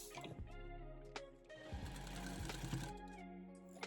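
A sewing machine stitches fabric pieces placed right sides together, its motor whirring in short runs with brief stops and small clicks in between, quiet and close.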